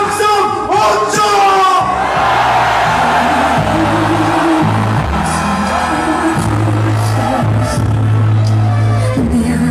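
Crowd roaring and shouting together at an outdoor rally, a loud sustained wall of cheers and yells lasting several seconds, with chants and voices rising over the din.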